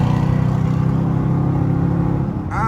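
A straight-piped Dodge Charger RT drones loudly on the highway, a steady, deep, rumbling exhaust with a raspy edge, close and continuous, briefly easing near the end.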